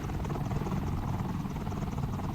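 A helicopter in the Roblox video game, a steady low rotor chop that pulses continuously at moderate loudness.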